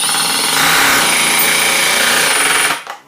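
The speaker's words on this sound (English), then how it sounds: "if we're too close to the impacts and the combi drill, they make a lot of noise" A combi drill drives a 4x50 screw into wood, a loud, close, continuous whirring grind that holds steady for over two seconds, then cuts off abruptly with a brief tail.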